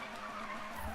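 Tires of a BMW M3 E30 skid steadily during a drift event in Need for Speed 2015, a continuous squealing hiss with engine tone underneath, fairly quiet and unbroken for about a second.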